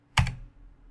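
A single sharp key press on a computer keyboard, close and clear with a quick decay, made while installing SQL Server Management Studio, with no talking over it.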